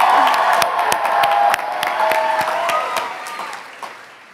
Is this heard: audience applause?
yes